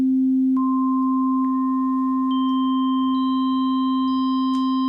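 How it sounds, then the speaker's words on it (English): A steady low sine tone holds while higher pure sine tones enter one by one at random intervals, each stacking into a sustained, dissonant chord with small clicks at each entry. "Let's try again, just adding harmonics at random and making a really weird dissonant chord."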